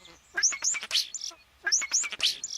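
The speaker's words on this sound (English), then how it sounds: "But the sound of birds has to be good for you" Small birds chirp in two quick bursts of bright, high tweets, close and clear with a brief pause between.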